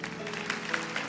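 Brief applause from a church congregation during a sermon, a soft wash of clapping hands, moderately loud and continuous with organ-like sustained tones beneath.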